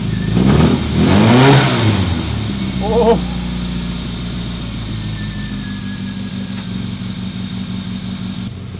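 A classic Mini's engine revs up in a couple of rising and falling blips, then drops into a steady, rough idle that runs on close and loud, with a brief spoken exclamation.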